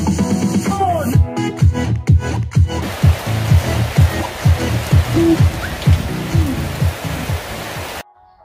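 Steady rain falls across the whole stretch as a dense, even hiss, with a series of low rhythmic thumps running beneath it, before it cuts out abruptly near the end.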